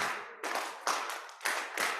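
Congregation at a church service clapping along to a song, a few loud rhythmic bursts of hand claps spaced about half a second apart, close and otherwise quiet.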